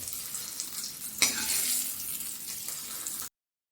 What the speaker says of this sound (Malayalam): അപ്പോൾ ഉള്ളി മൂത്തു ഇനി ഇത് ഈ കറിയിലേക്ക് ഒഴിച്ചു കൊടുക്കാം